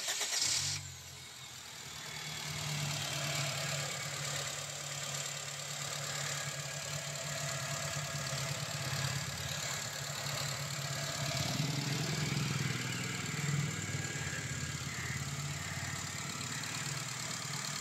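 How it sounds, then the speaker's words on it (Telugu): A second-generation Honda Amaze S variant car engine idles with a steady low rumble and faint mechanical vibration, running continuously at close range with no talking. "సో ఇంజిన్ అయితే ఒకసారి ఆన్ చేయమన్నా"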